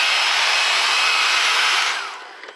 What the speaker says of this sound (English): I use the blow dryer on it like this to blow dry the surface